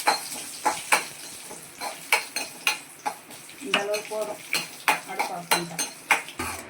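Cashews fry in ghee in a pan while being stirred for a roasted-gram halwa. A metal utensil scrapes and clinks against the pan in a quick, steady rhythm over a soft sizzle, close by with no talking.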